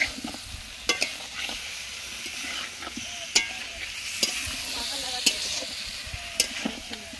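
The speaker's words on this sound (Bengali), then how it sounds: "আলুটা দিয়ে দিলাম। এবারে এটাকে একটু নাড়াচাড়া করব ভালো করে" Potatoes frying in a pan under a constant sizzle, stirred with repeated sharp scraping knocks of a spatula against the pan every second or so, close and clear, with no voices.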